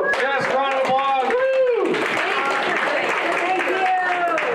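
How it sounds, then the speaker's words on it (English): A crowd in a bar claps and applauds steadily while a voice speaks over the clapping, with cheers mixed in. "round of applause"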